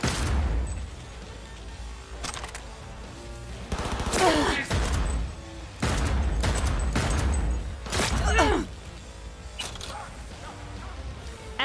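Unsuppressed gunfire in the Cyberpunk 2077 video game, loud repeated bursts of shots in several clusters with crashing impacts between them, under a steady background of game sounds.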